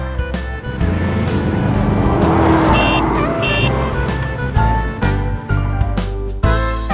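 A car engine revs and roars up close, with sharp clicks and thumps scattered through the sound.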